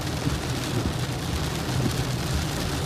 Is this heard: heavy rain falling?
yes